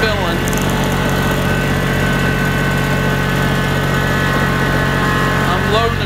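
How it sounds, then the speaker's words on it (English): A Kubota BX compact tractor engine runs steadily and loudly while loading with the bucket, a constant close mechanical drone with no break throughout. "I'm loading the tractor up"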